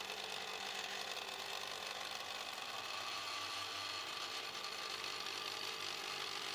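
A 3D printer with a direct granule extruder prints brittle sugar at 10 to 20 mm per second, giving a faint, steady mechanical whir and hum with no talk.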